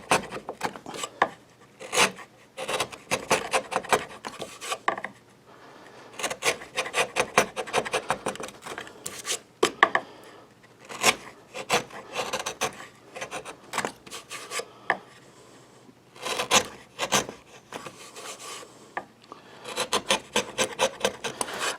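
A gouge scrapes and rasps through cherry wood while a square tray is carved, giving repeated short rough strokes in irregular bursts with brief pauses, close and moderately loud.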